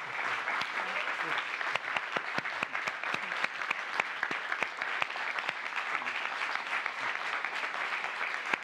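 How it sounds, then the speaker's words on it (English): Audience applause at the close of a science lecture on catalysis, a dense, steady clapping that fills the hall continuously without letting up. "Please join me in one more round of applause for this amazing lecture."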